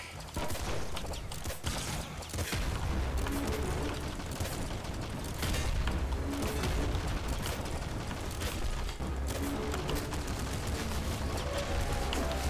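Rapid, overlapping gunfire and bullet sounds from the video game Nuclear Throne, a dense and steady barrage of shots and mechanical clatter lasting the whole stretch, with game music underneath.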